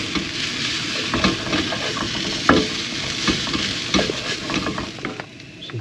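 Noodles, vegetables and a sweet soy, ginger and garlic sauce stir-fried in a pan, with a steady sizzle and repeated scraping and clacking of a utensil stirring, close and alone.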